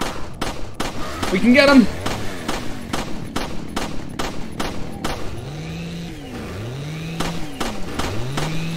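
Repeated gunshots ring out in the Resident Evil 4 Remake, sharp cracks fired at a steady rhythm over game sounds, with a voice speaking briefly near the start.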